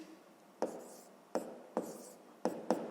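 Numbers are written by hand for a sixth-grade maths exercise, pen tapping and scratching on paper in five sharp strokes with short gaps, close and quiet.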